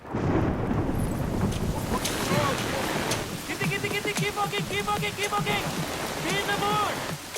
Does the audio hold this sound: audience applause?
no